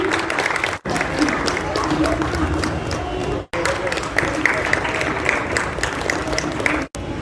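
Audience clapping at a school felicitation and exhibition program, a steady wash of applause with crowd noise and voices throughout, broken by a few abrupt brief gaps.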